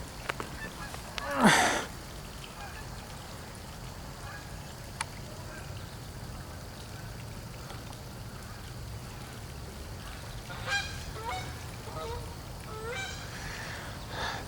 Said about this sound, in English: I'm just filming the ducks.